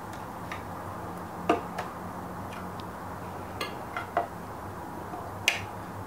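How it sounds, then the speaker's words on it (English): Rubber feet are pried off the bottom of a grinder with a butter knife, giving a handful of faint, sparse clicks and ticks against a quiet background. "Simply slide the butter knife in under the foot and twist it to pull the foot up."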